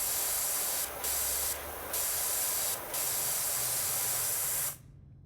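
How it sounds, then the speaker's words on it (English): A power washer in Powerwash Simulator 2 blasts a loudspeaker with a steady, hissing spray broken by three short pauses. The jet then cuts off abruptly, leaving near silence. "Let's spray this speaker with a fucking power wash."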